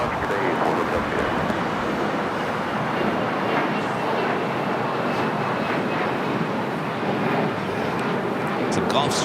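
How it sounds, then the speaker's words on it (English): A Gulfstream G550 business jet departing at Los Angeles International Airport produces a steady, broadband engine roar that holds loud and continuous throughout, with faint talk in the background. "It's a Gulfstream G550."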